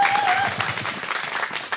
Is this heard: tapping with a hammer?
no